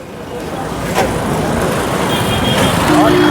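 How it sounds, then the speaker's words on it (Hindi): Busy market street traffic, with cars and other vehicles entering and leaving amid steady roadway noise and engine hum that swells slightly, while people talk over it throughout. "जो मार्केट में गाड़ी घुस रही हैं, जो मार्केट से गाड़ी आ रही हैं"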